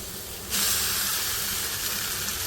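Carrots, potatoes and onions hitting a little hot oil in a wok set off a sudden, loud, steady sizzle that holds strong and hissing without fading, after a quieter moment at the start.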